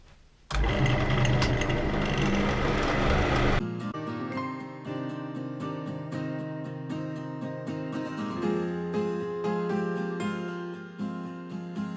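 A lathe spins a wooden piece while a tool cuts a curve and takes a tenon off the bottom: a dense, loud scraping whir at first, then a sharp change to rhythmic, tonal cutting chatter with repeated bursts, no voices.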